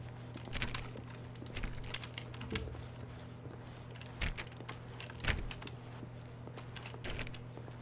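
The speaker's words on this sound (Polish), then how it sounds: "Więc fajnie jak klikam myszką, to... Nawet w nic, to słyszę właśnie... Klikanie przycisków." Rapid, irregular button and mouse clicking during play of The Stanley Parable, a steady patter of sharp close taps over a low background hum.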